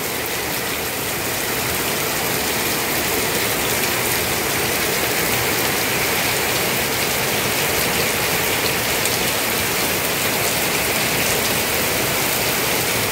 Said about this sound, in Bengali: বেশ খানিকক্ষণ ধরেই ভয়ানক পরিমাণে বৃষ্টি হচ্ছে, এত শব্দ হচ্ছে বৃষ্টির চারিদিকে।